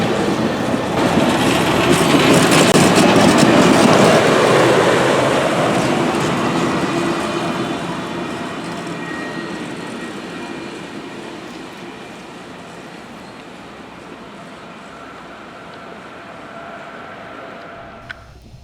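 Norfolk & Western 611, a steam locomotive, rolls past close by with its train, making a loud, broad rumble and wheel clatter that slowly fades as the cars recede.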